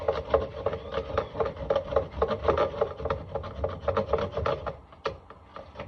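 A bar of homemade laundry soap is rasped over the small side of a grater beside a kitchen sink, with steady repeated scraping strokes, close and fairly loud, then a brief pause near the end.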